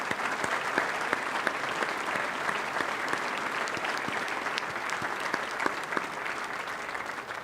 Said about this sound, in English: give them a large round of applause for what they do for us here each night